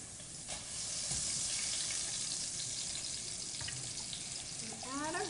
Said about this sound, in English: We're going to add all of our vegetables in.